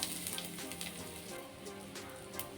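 Garlic, curry leaves and dried chillies frying in hot oil, a continuous soft sizzle with faint crackles and an occasional light stir, close but quiet, no talking.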